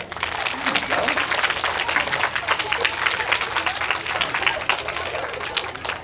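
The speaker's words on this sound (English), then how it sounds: "can we give the audience a round of applause?" A chorus applauds the audience at a school winter concert, brisk crowded clapping that stays loud and continuous throughout, with some scattered voices underneath.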